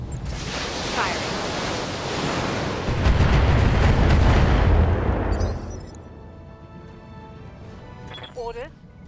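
Weapons fire in a BattleTech mech game, a heavy roaring barrage of booming blasts that swells and peaks around three to five seconds and then fades, with a voice speaking over the end.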